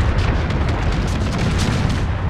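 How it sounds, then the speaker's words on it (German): A naval line-of-battle ship fires a broadside in a Total War: Empire II strategy game, giving a dense, continuous rumble of cannon blasts that stays loud throughout. "Da schießen wir nochmal von Backbord in die Takelage rein."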